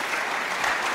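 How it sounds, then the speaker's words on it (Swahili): A brief burst of dense, even audience applause at a school Swahili arts performance, steady and fairly loud throughout the short moment. "Makofi tupige bwana hivi."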